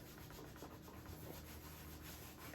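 Pastel rubbed back and forth over paper in an art lesson, a faint, steady scratchy friction close to the surface, ending in a sudden louder knock.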